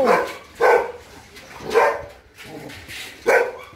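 Dogs, including bullies, bark in separated bursts about every second in a kennel in Baguio City, loud and nearby, with quieter barking and echo between them.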